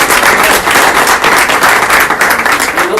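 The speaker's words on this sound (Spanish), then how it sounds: "agradecerles a ellos con un aplauso" Dense, loud applause from a church congregation fills the whole stretch, steady and continuous with no voices over it.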